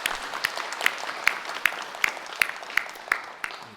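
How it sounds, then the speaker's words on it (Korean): A church congregation applauds during a Sunday worship service, with sparse, rhythmic group claps landing in a regular beat roughly every 0.4 seconds over a soft crowd background. "우리 하나님께 영광의 박수 올려드리겠습니다"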